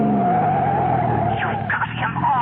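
A car skids with a sustained, wavering tire squeal as it is forced off the road in a 1970s radio drama chase, the screech loud and close over a rumbling engine for the whole stretch.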